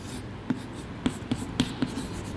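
Chalk or a marker taps and strokes against a board during a lecture, five short distinct knocks spaced unevenly over a steady room hiss, no one speaking.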